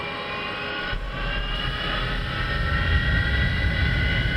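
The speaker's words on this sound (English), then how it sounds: "And we'll engage the starter and fire up the jet." A Hawker Hunter jet engine in a flight simulator game spools up, a steady whine and rumble building in loudness over a few seconds, with no talking.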